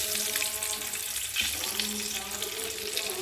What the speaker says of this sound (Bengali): তেলটা গরম হয়ে গেছে, আর আমি একে একে ডিমগুলোকে দিয়ে ভেজে নেব।